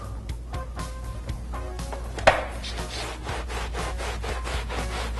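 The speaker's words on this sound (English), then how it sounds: "I'm going to take and use a clean microfiber to gently wipe or blot this out" Clean microfiber cloth wiping and blotting a car's interior carpet during detailing, a run of soft, close rubbing strokes with one sharper knock midway.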